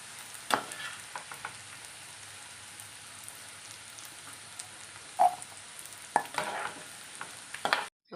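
Garlic sautéing in oil in a pan while making garlic pickle. A soft, steady sizzle continues throughout, broken by occasional scraping taps from stirring, with no talking.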